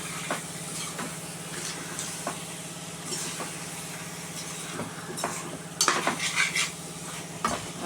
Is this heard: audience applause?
no